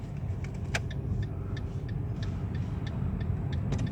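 A car's left turn signal ticks steadily in the cabin during a driving test course manoeuvre, regular clicks at about one per quarter second over a low engine rumble.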